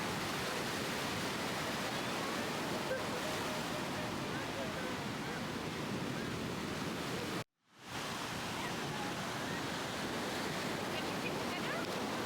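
Rough ocean waves on Patong beach at sunset make a steady, full, washing roar that fills the whole stretch, broken by one brief cut in the middle, with no voices.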